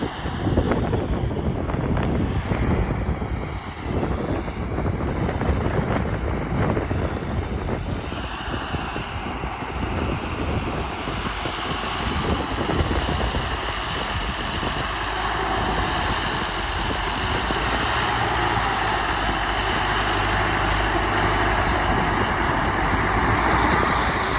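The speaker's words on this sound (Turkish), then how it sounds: "Şu anda patlatma çekiyoruz ya da çizel çekiyoruz diyebiliriz" A steady, heavy engine drone of an Erkunt Kudret 105 tractor pulling a nine-shank chisel plough through a field runs throughout, with wind buffeting the microphone.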